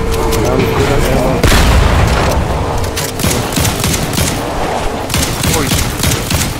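Gunfire and explosions in a battle-royale shooter game, a dense fusillade of shots and booms running throughout at moderate distance, with players talking over the top.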